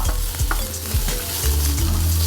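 Sausage slices frying in a hot pan, a loud close sizzle with repeated scraping and clattering as the pieces are stirred, steady throughout and without talking.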